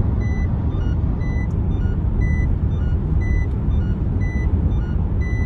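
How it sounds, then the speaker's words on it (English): A rental van's warning chime for a faulty seatbelt sensor beeps in a steady repeating pattern of short tones over a constant low engine rumble, moderately close with no talk. "We got some footage, didn't we, of it like beeping because the seatbelt sensor wasn't working."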